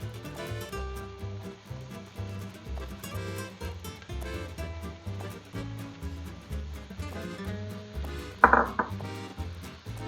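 Diced celery tipped into a hot pan and stirred over high heat, faint clinks and scraping of utensil against the pan sitting under louder background music, with one brief sharper clatter near the end.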